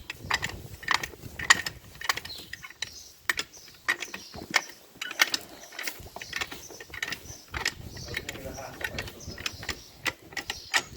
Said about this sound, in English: you want to undo the nuts before you jack it up so the wheel doesn't turn around